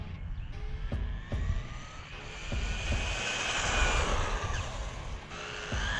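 A RLAARLO AM-X12 RC buggy running on a 2S battery, its high-pitched electric motor whine rising and falling as it speeds around outdoors, with tyre and surface noise and occasional bumps throughout.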